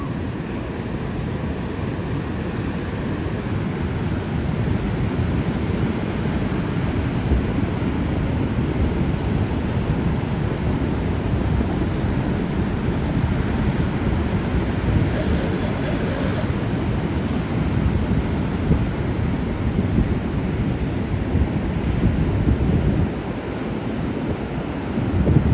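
Atlantic Ocean surf in December: continuous rushing waves breaking and washing up the shore, loud and close, mixed with gusty wind buffeting the microphone, no talking.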